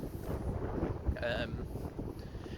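Wind buffets a microphone outdoors on a dark evening walk, a steady close rumble with a brief tonal whistle midway and no clear words.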